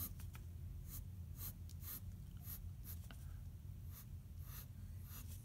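A pen inks over pencil lines on a comic book page, giving faint, soft scratchy strokes in short irregular bursts over a low steady background hum.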